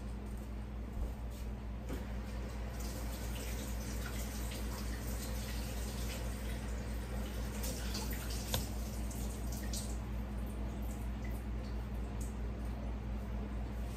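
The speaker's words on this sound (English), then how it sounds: "Okay, so here is our cauliflower, and I'm going to rinse it off." Cauliflower being rinsed under a running kitchen tap, giving a steady, close hiss of flowing water with faint dripping and splashing throughout, no voices.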